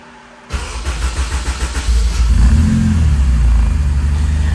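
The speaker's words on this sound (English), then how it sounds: "We're just gonna try to fire it up from here." A Honda Type R engine fires up after a short crank, then revs loudly and settles into a steady, rumbling idle close by, with no talking.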